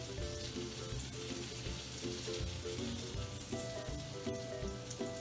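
Grilled cheese roll-ups sizzling in a skillet, a steady close crackle with occasional light clinks and shifts as pieces are laid down, no speech.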